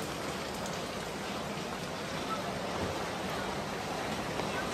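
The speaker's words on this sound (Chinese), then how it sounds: "下雨天啊。" Heavy rain falls steadily on a waterlogged street, a dense, even hiss that holds at one level throughout with no breaks.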